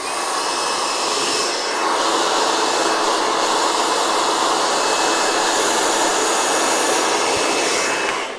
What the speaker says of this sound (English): I'm just going to do a quick little zhuzh with the blow dryer here.